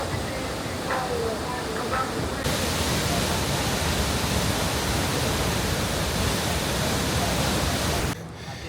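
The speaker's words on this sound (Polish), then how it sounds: "Ostatni punkt dzisiejszej wycieczki – wodospad Tegenungan." Tegenungan waterfall on Bali, with water from the Petanu river crashing down a cascade, producing a dense, steady roar that fills the space without a break and cuts off abruptly near the end.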